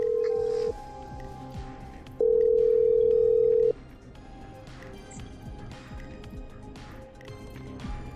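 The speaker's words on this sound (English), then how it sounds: "Okay, I'm dialing." Telephone dialing in the video game Killer Frequency: a steady dial tone broken into two long tones, with faint beeps and clicks beneath and no speech.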